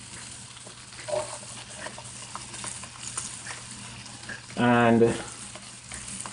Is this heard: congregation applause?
no